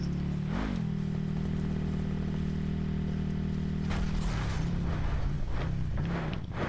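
An ATV quad engine in Call of Duty Black Ops 4 drones steadily at a low pitch, then shifts and wavers as the quad picks up speed, loud and continuous with no talk.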